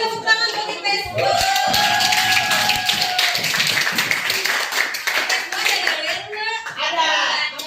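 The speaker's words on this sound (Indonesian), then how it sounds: "Kemudian tepuk tangan buat IPS 2." A school class claps their hands together in a brisk burst of clapping, close and loud, with children's voices chattering around it.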